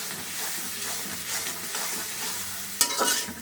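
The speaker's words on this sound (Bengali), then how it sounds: "এদিকে মাংসের জন্য মশলা কষিয়ে নিচ্ছি।" Spices for a meat curry fry and get stirred in a pan, a constant close sizzle with soft scraping, then a sudden louder clatter and spatter near the end.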